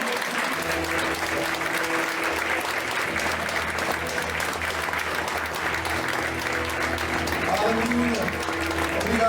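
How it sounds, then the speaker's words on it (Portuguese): A church congregation bursts into sustained, dense applause during a worship service, loud and steady throughout, with voices calling out over the clapping. "Vamos aplaudir a Deus."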